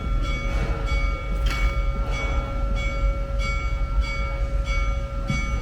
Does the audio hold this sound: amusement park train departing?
yes